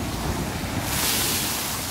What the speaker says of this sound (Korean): 파도가 지금 방파제 넘어섰거든요.